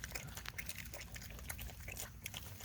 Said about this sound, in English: Pigs don't have good manners because they smack.